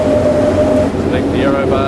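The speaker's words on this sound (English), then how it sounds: "And the square bar, again, you hear that wind whistle." Square-profile roof bar in a wind tunnel at high airspeed, giving a loud, steady high-pitched whistle over continuous rushing air, with rising tonal streaks near the end.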